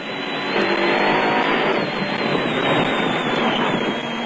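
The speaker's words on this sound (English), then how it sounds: "On board with Grobler and Leek in the Nissan hardbody" A Nissan Hardbody off-road race truck roars from inside the cab during the 2002 Caledon 400 off-road race in South Africa. The engine drones loud and steady over constant rattling road noise.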